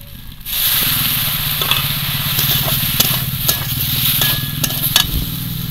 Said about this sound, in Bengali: এবার একটু ভালো করে কষিয়ে নেব।